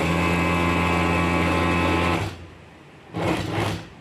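An industrial sewing machine in a Tirupur garment factory stitches fabric with a loud, steady whirring run that stops abruptly, then starts again in a brief burst.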